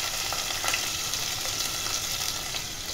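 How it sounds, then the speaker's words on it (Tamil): Mustard seeds, curry leaves, crushed garlic and onion fry in hot oil for a bottle gourd and lobia curry, giving a steady, dense, close sizzle that carries on without a break and with no voices. "கொஞ்சம் எண்ணெயில் வதங்கட்டும்."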